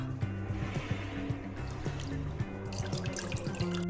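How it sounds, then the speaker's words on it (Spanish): Water is poured into a glass baking dish for corn dog dough, a close, bubbly trickle with quick repeated drips and gurgles running steadily throughout. "Ahora necesitamos una refractaria y aquí vamos a agregar el agua."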